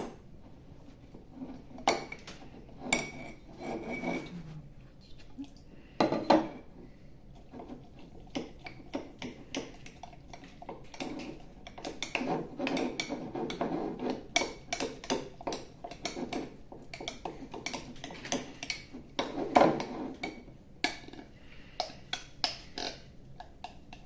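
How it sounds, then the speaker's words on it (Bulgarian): Wholegrain and white wheat flour mixed with water into a thick sourdough batter in a bowl, with irregular scraping clinks of a utensil against the bowl and soft wet squelches in uneven bursts, fairly close and quiet. "Разбърквам хубаво да стане гъста каша."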